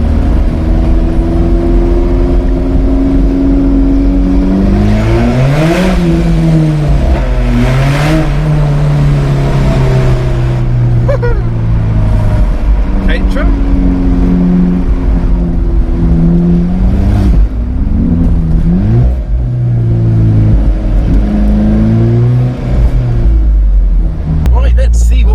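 An Alfa Romeo 4C Spider engine revs inside the Goodwood tunnel, loud and close, with repeated rising and falling blips and a deep rumble echoing off the walls. A voice talks over parts of it.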